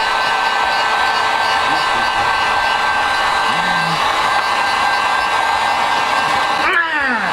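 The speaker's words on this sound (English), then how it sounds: "Get the heat gun, the extension." A heat gun blows hot air onto a Honda Accord taillight with a loud, steady, close-up roaring whoosh throughout. The airflow shifts briefly near the end, and faint voices sit under it.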